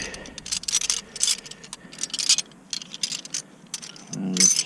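A 14 wrench ratcheting on a bolt of the front shock absorber of an Audi A2 1.4 TDI, with repeated quick clicking bursts close by and a faint low hum underneath.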